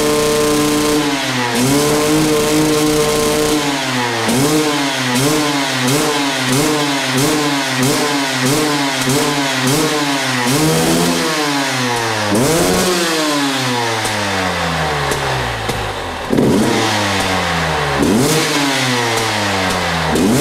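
A supermoto motorcycle engine is revved hard again and again to blow out carbon deposits, with loud, close, rising and falling throttle blips over a rough idle throughout.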